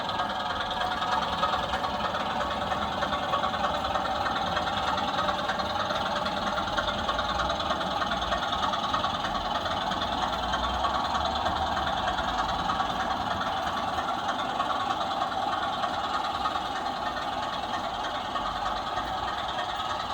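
Model trains running on the Cotton End layout, a green 24 racing alongside a pair of 20s, give a steady continuous rolling whir and rumble throughout at an even level, with no talking.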